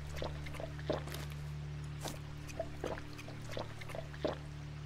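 Drinking water in the video game ATOM RPG: soft, faint liquid pouring and gulping sounds with a few small clicks, heard over a steady low game hum and no talk.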